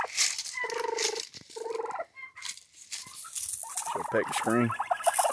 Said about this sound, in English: Come on, turk, turk. Yeah, boy. Turk, turk, turk, turk. Follow me around like pets.